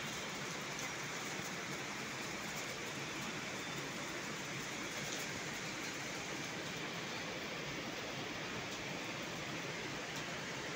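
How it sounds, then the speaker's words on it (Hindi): Steady, dense monsoon-season rain in Mumbai pours without a break, a constant wash of hissing noise with no voices. "देखो कितना बारिश आ रही है रात से"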